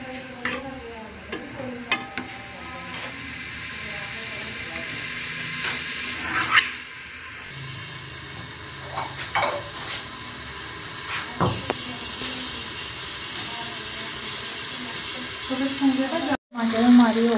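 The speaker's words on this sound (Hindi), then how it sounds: "दूसरी तरफ मैं ना ये मसाला भूनने लगी हूँ। टमाटर डाले और घी डालने हैं" Masala with tomatoes and ghee frying in a pan, a steady low sizzle with occasional stirring scrapes and clinks running throughout, someone talking over it at times.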